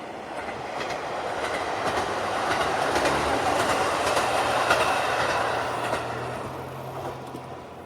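A single-car train rolls past through the Japanese countryside, its wheels clattering rhythmically on the rails as the rumble swells to a peak mid-pass and then fades, with no one talking.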